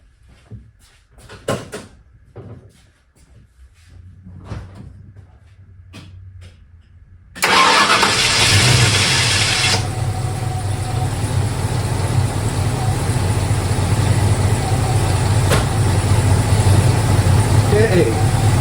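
A Ford 302 V8 fresh from a roller lifter swap cranks and catches midway, then settles into a steady loud idle after earlier clunks and soft talk.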